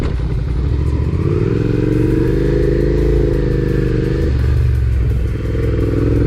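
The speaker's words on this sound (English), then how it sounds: "I can put my foot down one click, the bike is now in neutral" A motorcycle idles steadily in neutral after a one-click gear change, its engine running as an even, close, continuous rumble with a slight wavering in pitch and no voices.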